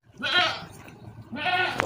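Two loud, close, wavering bleats from a goat with its kid at a livestock market, separated by a short pause.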